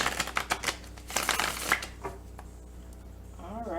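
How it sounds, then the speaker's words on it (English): A deck of tarot cards being shuffled by hand: a rapid run of papery riffles and slaps, close and crisp, then quieter handling with a faint voice-like warble at the end. "Let me shuffle the deck here because it's trying to have a mind of its own."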